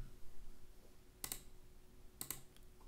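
Two crisp mouse clicks, about a second apart, sound close and clear against a quiet room while a course website is navigated.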